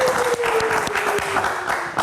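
Audience at a live music talk show claps in a short burst of steady applause, with a voice talking over it.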